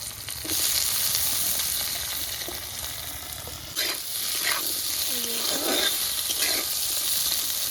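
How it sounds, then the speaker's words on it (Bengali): Onion, garlic and new potatoes frying together in a pan, with a steady, close, loud sizzle and occasional stirring scrapes and clinks. "পেঁয়াজ, রসুন আর আলু এটাকে আমি ভালো করে ভাজবো।"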